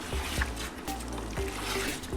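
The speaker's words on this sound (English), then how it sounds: "You want to start by just wetting her hair down." Lukewarm water running and trickling through a young girl's natural curly hair at a salon wash basin, a steady soft splashing hiss with faint gurgles, close and fairly quiet.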